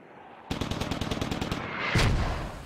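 In the military shooter game Squad, a rapid burst of automatic gunfire rattles loudly and close for about a second, followed by a deep rumbling boom from an incoming mortar impact.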